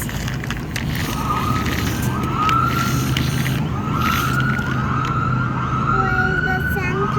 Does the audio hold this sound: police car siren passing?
yes